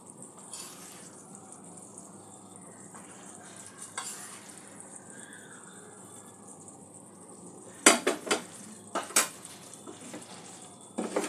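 Sour-spicy raw mango pickle being stirred with fried spice mix in a pan: a faint, soft sizzle underneath, then a few sharp clinks and scrapes of a spoon against the pan toward the end.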